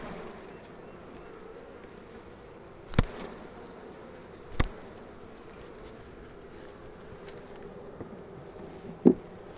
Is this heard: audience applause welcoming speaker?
no